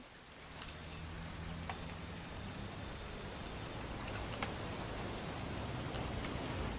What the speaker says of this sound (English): It's gonna rain the whole weekend